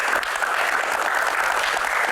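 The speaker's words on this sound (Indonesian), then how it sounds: "Naturalisasi, tepuk tangan." A studio audience at a Q&A game segment breaks into applause, a dense, even burst of clapping that fills the whole two seconds with no voices on top.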